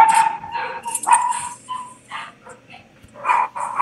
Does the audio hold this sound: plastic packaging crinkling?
no